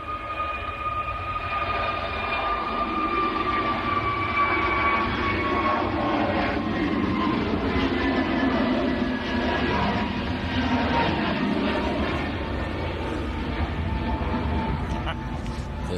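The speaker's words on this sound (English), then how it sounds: "Pegasus rotating fairly early. A321neo." A Pegasus Airbus A321neo rotates on takeoff at Manchester Airport as whining engine tones slide downward and a rumbling roar swells at mid-distance. People talk over the engine noise.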